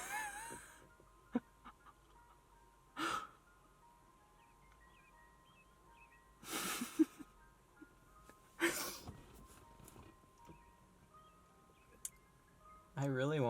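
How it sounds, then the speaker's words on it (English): Ice cream truck jingle playing faintly in the distance as it passes, a thin repeating chime melody under intermittent quiet breaths and rustles. "Oh my god, it's the ice cream truck."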